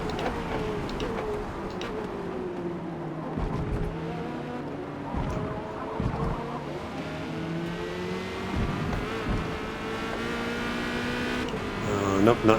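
A Corvette C8.R race car drives down the Mulsanne straight at Le Mans in Forza Motorsport, its engine droning steadily with rising and shifting tones while someone talks over it throughout.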